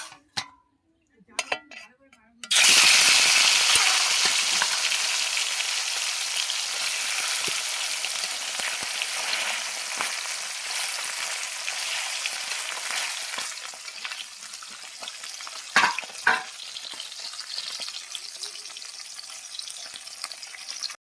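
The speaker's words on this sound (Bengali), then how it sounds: "তেল গরম হয়ে গেছে, দিয়ে দেবো মাছ।" Fish dropped into hot oil in a wok sets off a loud, steady sizzle that fills the clip after a few quiet seconds with faint clinks, then fades slightly while continuing, with a couple of brief utensil knocks near the end.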